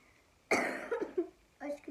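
A single harsh cough bursts out loudly close to the microphone, followed by a brief throat sound, with a voice speaking right after.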